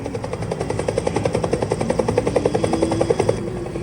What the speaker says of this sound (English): waited for the sounds of the Huey helicopter, the sound we had dreaded and loved in this war